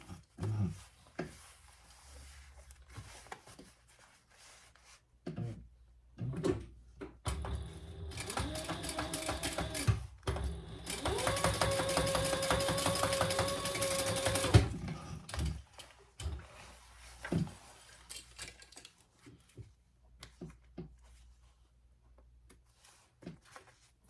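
A sewing machine top stitches a laptop bag, running in bursts of rapid mechanical clatter with a steady sustained stretch in the middle, broken by quieter handling knocks and pauses.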